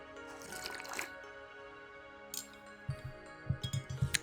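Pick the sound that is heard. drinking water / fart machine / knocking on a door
drinking water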